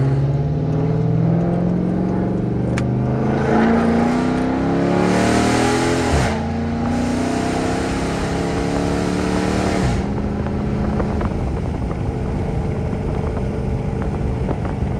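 A rebuilt 392 Gen 2 Dodge Charger engine revs loudly nearby, the pitch climbing through several throttle blips before dropping back to a rough, rumbling idle.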